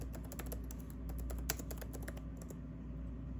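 Computer keyboard typing, a rapid run of close crisp key clicks with irregular rhythm over a low steady hum, one sharper tap standing out, no talk.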